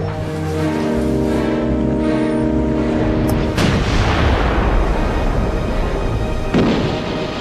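Heavy naval guns of British warships firing at long range during a First World War sea battle, a sustained rumbling roar with a sharp blast around the middle and another later, loud and without voices.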